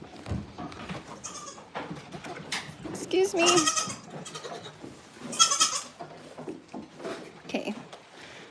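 Goats bleating on a goat farm, several loud wavering calls rising over one another, with a person speaking briefly nearby.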